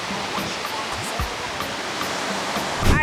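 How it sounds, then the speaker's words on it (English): Steady wash of surf rolling onto the beach at Silver Sands, Jamaica, a broad continuous hiss with a few low thumps of breaking water and a slightly louder swell near the end, no talking. "Beautiful beach here at Silver Sands. Look at that water."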